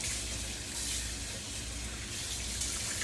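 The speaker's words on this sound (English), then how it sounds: "Rinse my cloth." Tap water runs steadily in a kitchen sink while a cloth is rinsed during jar canning of fish, a continuous close rushing splash with no talking.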